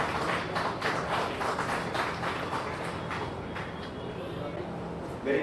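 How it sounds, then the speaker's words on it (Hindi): An audience claps at an award ceremony honouring municipal sanitation workers, with dense overlapping applause running throughout at moderate level and fading slightly toward the end. "तालियां बजती हैं आप सभी की"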